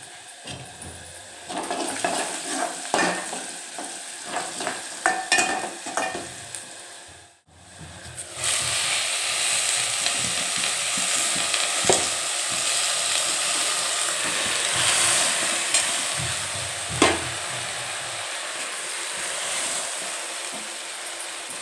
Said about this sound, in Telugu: ఒక 5 minutes ఫ్రై కావాలి.